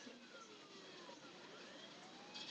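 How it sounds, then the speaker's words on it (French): Ambulance siren in the video game Saints Row The Third, faint and distant, wailing steadily under a dense wash of traffic and engine noise for a couple of seconds. "Une petite ambulance. Non, mais la sirène."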